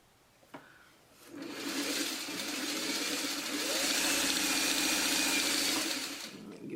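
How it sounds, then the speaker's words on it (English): A sewing machine stitching fabric, a steady motorized whirr that starts after a click, runs for about five seconds and then winds down. "get my thread in the right spot so I can actually sew"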